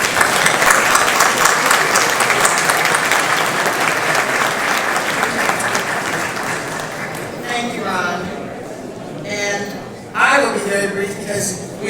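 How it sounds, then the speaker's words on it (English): A loud, dense round of audience applause greets Marie Johns at a Washington Informer 50th anniversary celebration at the Carnegie, thinning toward the end as voices cut in over it. "we want to give her a round of applause"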